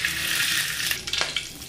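Ghee sizzling in a hot kadai, a steady close hiss of frying with a few small crackles and pops, with no voices over it.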